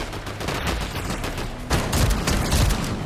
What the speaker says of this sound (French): Il y a des tirs.